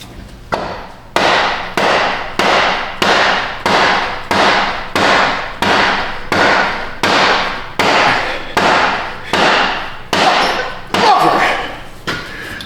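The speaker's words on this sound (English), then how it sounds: "Let me go get a heavier plastic hammer." A heavy plastic hammer strikes the front CV axle of a Ford EcoSport over and over, about a dozen sharp, evenly spaced close blows ringing briefly, with one slightly louder hit near the end.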